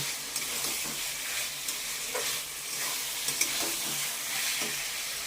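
Water poured into a hot frying pan of cauliflower and paneer curry with well-cooked spice paste, giving a steady, close hiss and sizzle throughout with a few soft bubbling pops.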